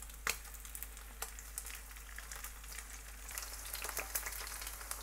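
Separated beef pieces sizzle in hot oil in a pan over medium-high heat for a beef and broccoli dish, a steady quiet frying hiss broken by scattered sharp pops and crackles.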